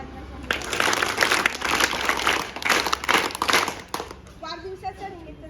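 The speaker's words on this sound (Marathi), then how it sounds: "परत एकदा जोरात टाळ्या वाजवायच्या" An audience at a birthday gathering in an orphanage gives a burst of clapping, dense and fairly steady for about four seconds, then fading into scattered claps and nearby chatter.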